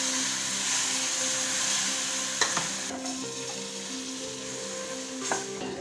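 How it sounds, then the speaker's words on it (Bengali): Fried semolina being stirred in a pan for mohanbhog as milk is added, a steady soft sizzle with scraping stir strokes and a few sharp clinks of a spoon against the pan, close and continuous with no talk. "নাড়তে নাড়তে দিতে হবে"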